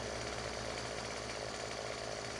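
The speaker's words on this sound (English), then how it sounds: "Wish I could run with my chainsaw." A chainsaw in the video game Farming Simulator 17 runs steadily and loudly, its buzzing drone holding an even pitch throughout with no talking over it.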